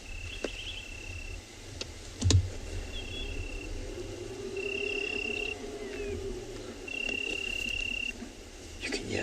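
Steady insect chirping fills a quiet night, with repeated high trilling bursts over a low background hum and a brief thump partway through.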